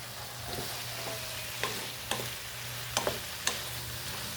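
An eggplant dish fries with a steady close sizzle as a utensil stirs it, several light clacks and scrapes against the pan breaking through the hiss.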